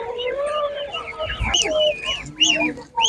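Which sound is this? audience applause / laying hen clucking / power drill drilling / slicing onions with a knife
laying hen clucking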